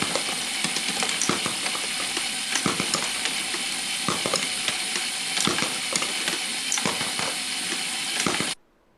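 Lego great ball contraption module ratcheting continuously as a rotating axle lifts plastic balls up the initial lift and drops them into the middle section, with a dense clicking churn and periodic louder clacks of falling balls, stopping abruptly near the end.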